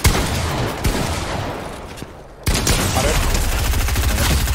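Fortnite gunfire in a wager match, loud, rapid bursts of shots with a brief lull partway through before the firing resumes in a dense, rattling stream.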